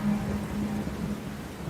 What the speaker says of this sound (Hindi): बारिशें आ गई